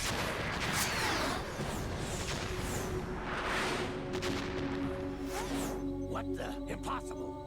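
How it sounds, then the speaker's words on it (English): Fireworks bursting in the video game Metal Gear Solid 2, a continuous crackle of booms and whooshes with music tones and game sounds mixed in. "So many fireworks."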